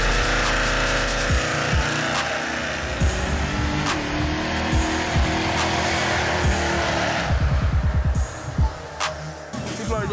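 A carbureted car speeds down the road at about 60 mph, its engine near 5,000 RPM roaring loud and close for the full ten seconds, with brief rattling bursts layered over the sustained drone.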